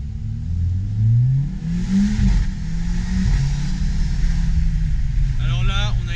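A Mercedes-AMG CLA45 accelerates hard, its engine rising in pitch through rapid gear changes with loud revving sweeps heard from inside the cabin, ending with a brief voice.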